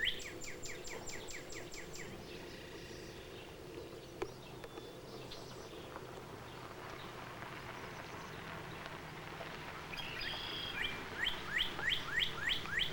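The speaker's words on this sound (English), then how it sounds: "I don't know what kind of bird this is." A red bird sings outdoors in repeated bursts of chirping notes, faint at first and then growing more frequent and rhythmic toward the end over soft background noise.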